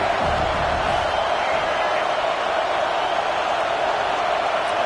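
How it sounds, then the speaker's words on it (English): Loud, steady roar of a football stadium crowd as the opposing offense starts a drive deep in its own territory, with a commentator talking over the continuous wall of noise. "this crowd trying to help keep them there"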